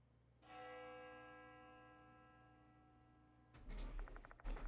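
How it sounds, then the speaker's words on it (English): A bell rings in the video game Spirit Hunter: Death Mark 2, one clear strike that hums and slowly fades over about three seconds, then a short burst of louder clattering and rustling. "The sound of a bell echoes in my ear."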